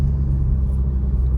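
A Toyota Supra 2.0 with an aFe Power Takeda exhaust gives off a deep, steady low rumble, close and continuous for a brief moment.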